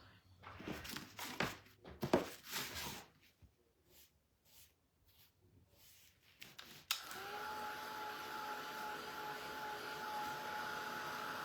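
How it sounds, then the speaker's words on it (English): A craft heat dryer, used while making a flower box book with IOD mould trimmings, switches on partway through after some handling clatter and blows with a steady, loud whirring hiss and a thin whine until the end. "My dryer works."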